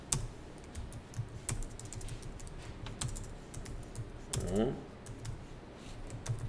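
Typing on a computer keyboard in a Notepad window during an accounting class: a steady run of quick, light key clicks at close range, with occasional louder taps.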